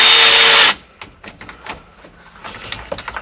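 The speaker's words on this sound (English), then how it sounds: "reach down there and loosen all these screws up" A power driver fitted with a T30 Torx bit whirs loudly for under a second while loosening screws on a Ford F350 Super Duty shifter, followed by quiet metallic clicks and taps.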